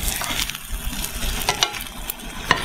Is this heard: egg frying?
yes